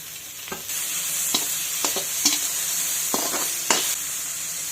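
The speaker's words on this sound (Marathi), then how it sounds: "लो ते मीडियम गॅसवरती आपण कांदा चांगला गुलाबी रंगावर आणि मऊ होईपर्यंत आपण परतून घेऊयात" Onions sautéing in oil over medium-low gas for potato kachrya, giving a soft continuous sizzle with several sharp spatula scrapes and taps against the pan at irregular intervals.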